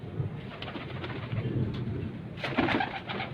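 A rooftop-kept pigeon coos nearby in low, repeated soft calls that grow a little louder toward the end, with no talking.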